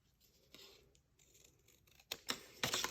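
Scissors snip through a piece of card cut to the length of a journal's spine, a few crisp close cuts growing louder toward the end, with no talk.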